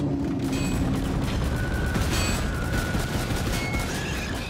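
Rapid, continuous gunfire from a zombies video game, a dense steady barrage of shots with faint electronic tones on top, loud and constant with no talk.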